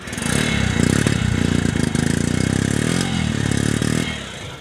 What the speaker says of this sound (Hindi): इतनी सर्दी में भी सेल्फ स्टार्ट ने किया फौरी काम।